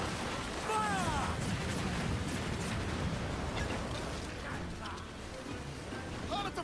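Naval cannon fire from sailing ships in Assassin's Creed Black Flag, a dense, continuous rumble of booming shots and battle noise with crew shouting orders over it throughout.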